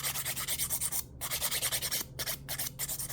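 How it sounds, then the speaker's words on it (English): File rubbing back and forth over an acrylic nail to smooth it, a close, rhythmic rasping in quick even strokes broken by a few brief pauses. "I'm just smoothing it out."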